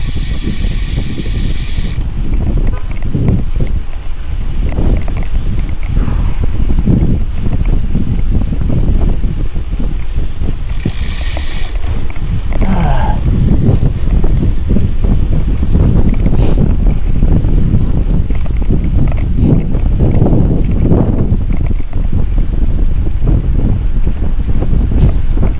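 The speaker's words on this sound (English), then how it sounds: "More windy, Mary" Strong wind roars steadily across the microphone throughout a bike ride near Kingston, a continuous loud buffeting rush with gusty swells and no talk.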